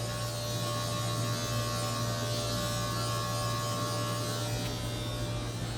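An electric hair clipper fitted with a number 1 comb buzzes continuously with a steady, loud motor hum, close by and unbroken, with no talking.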